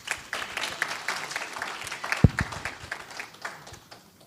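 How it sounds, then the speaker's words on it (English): Light applause from the audience at an investment summit, scattered, uneven clapping at a modest level that thins out toward the end, with one sharper knock partway through. "Let's give her a round of applause."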